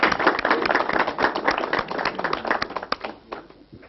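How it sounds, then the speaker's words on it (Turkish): Applause rings out in a TV studio for Mustafa Bey, with dense, continuous clapping from a studio audience that carries steadily for about four seconds before thinning toward the end. "Mustafa Bey'e bir alkış"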